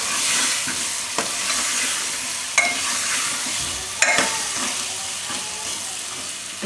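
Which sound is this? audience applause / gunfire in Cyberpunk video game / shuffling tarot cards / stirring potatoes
stirring potatoes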